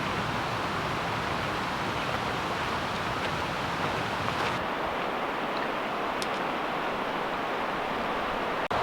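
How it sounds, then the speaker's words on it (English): Steady broadband rush of a river hidden below a steep mountain trail near Goldbug Hot Springs, Idaho, a constant hiss-like roar with no talk over it. "Rushing water down below us. Can't see it, but"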